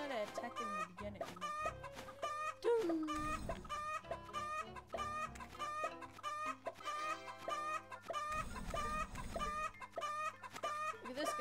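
Chickens in a Roblox egg farm simulator game cluck in rapid, repeated bursts, with layered calls and brief thumping impacts, loud and close over game music.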